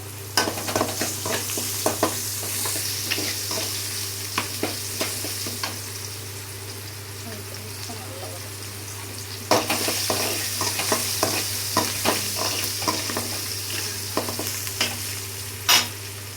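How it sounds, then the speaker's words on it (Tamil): Ingredients for tomato thokku being sautéed in a pan, with a spoon stirring and scraping in steady, irregular strokes over a constant low sizzle, close and moderately loud, with no talking. "போட்டுட்டு இது மிக்ஸ் பண்ணணும். நல்லா வதக்கணும்."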